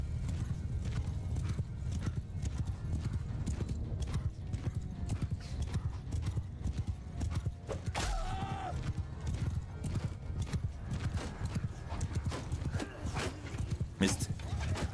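Horse hooves clip-clop at a steady gallop in the medieval combat game Mount and Blade II: Bannerlord, running continuously throughout with a brief whinny, while a player talks over the action.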